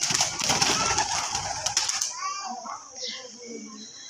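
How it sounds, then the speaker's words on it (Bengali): Pigeons kept at a grandmother's village home make soft bird calls, with children's voices and busy background noise loud in the first half before a quieter stretch of chirps and coos. "পায়রাগুলো"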